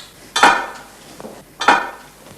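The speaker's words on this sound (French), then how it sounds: "je vais mettre mon jambon dans la cocotte" Ham goes into a metal pressure cooker pot with two sharp clanking knocks about a second apart, close and fairly loud, with a short scrape between them.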